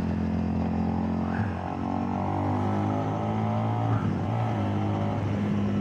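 A MITT 808 or 880 motorcycle engine accelerates, loud and close, its steady droning tone climbing in pitch and then dropping back before rising again.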